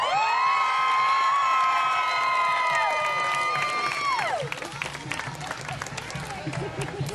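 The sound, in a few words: crowd cheering and applauding at a show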